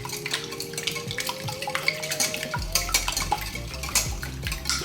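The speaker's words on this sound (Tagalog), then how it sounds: "sa aking mixing bowl, nilagay ko na pa yung itlog. Batiin lang natin siya ng maigi." Eggs are beaten in a mixing bowl for lumpia, with a fork or whisk scraping and clinking quickly and steadily against the sides of the bowl, close and fairly soft, with no talking.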